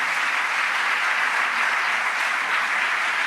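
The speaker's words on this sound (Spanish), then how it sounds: "Den un aplauso fuerte a Dios si lo quiere hacer" A church congregation applauds God during a Spanish-language sermon, steady dense clapping filling the room at full volume without a break, no voices rising above it.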